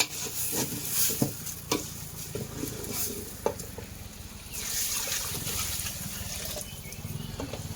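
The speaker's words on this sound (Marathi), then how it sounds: "आता तांदूळ टाकून फिरवायचं काम चालू आहे" Rice is stirred into a hot tempering in a pot outdoors, with repeated scraping strokes and light clinks over a soft sizzle and bubbling.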